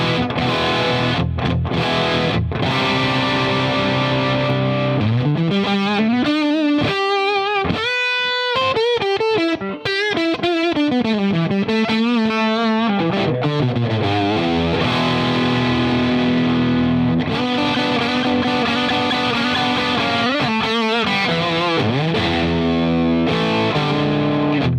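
An electric guitar is played through a Wampler Tumnus overdrive pedal with every knob set halfway, giving sustained, gritty chords and single-note runs that ring loud and continuous.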